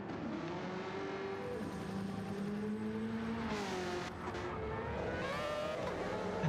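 A C7 Corvette race car runs on the Road Atlanta circuit, its engine droning and rising in pitch as it accelerates, heard at moderate distance.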